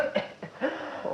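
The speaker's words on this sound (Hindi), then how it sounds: "ये खांसी" A single short cough and throat-clearing bursts in a comic Hindi scene, close and fairly loud, with a few brief vocal sounds between them.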